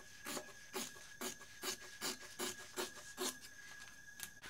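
Fabric bag pieces for a BeHip 2.0 bag being trimmed along the bottom edge, heard as about nine even, rasping cutting strokes in a steady rhythm, close and moderately loud with no talk.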